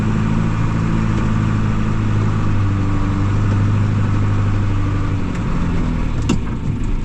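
A John Deere 2755 tractor's engine runs loud and close as it pulls up, a steady low drone with a constant hum throughout and a brief click near the end.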